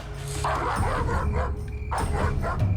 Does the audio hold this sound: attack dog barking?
yes